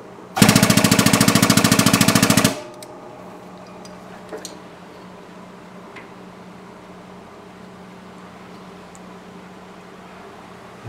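A press pushes down on a Suzuki TS125 motorcycle crankshaft with an aluminum pad, giving a loud, rapid, buzzing mechanical burst lasting about two seconds, then quiet room tone with faint small clicks.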